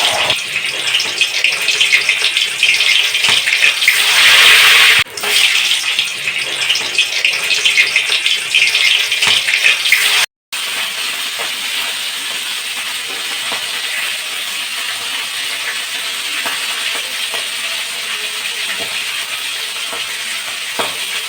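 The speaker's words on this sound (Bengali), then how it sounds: "কড়ার মধ্যে ইলিশ মাছগুলো ভাজতে লাগলো" Hilsa fish fry in oil in a kadai, giving a dense, steady crackling sizzle close by, with a brief cutout partway through and no talk.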